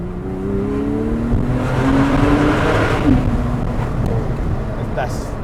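A Porsche 911 Carrera S 997.2 revs hard inside a tunnel, its engine note climbing and echoing loudly around the walls through a couple of gear changes, with a voice talking briefly over it.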